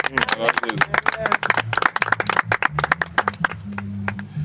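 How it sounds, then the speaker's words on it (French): A church congregation at a baptism service breaks into a burst of dense, continuous hand clapping with voices calling out over it, close and lively, lasting several seconds. "Acclamons très fort les Seigneurs"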